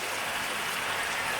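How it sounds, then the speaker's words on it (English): Water poured into a pan of seasoned fish for Jamaican brown stew fish, a steady, close splashing pour that fills the whole short moment with no talk. "And I'm going to add some water on that."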